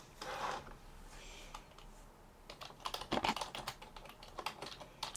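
Fingers type on a computer keyboard, entering an activity name in Primavera P6 scheduling software: a soft early tap or two, then a quick burst of close, crisp keystrokes in an uneven rhythm, with no talking.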